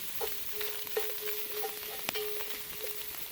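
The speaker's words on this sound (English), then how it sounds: "You can hear that wonderful sound of that searing off." Meat searing in a pot over a campfire for Texas red chili, a soft steady sizzle with a few sharp pops and clicks, fairly quiet, with no talking.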